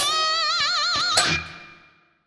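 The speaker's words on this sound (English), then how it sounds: "With the wah pedal, the last part would sound like this." Distorted electric guitar through a wah pedal plays the closing part of a riff, a wavering bent note with heavy vibrato, then a sharp accent that decays to silence, close and loud with no voices.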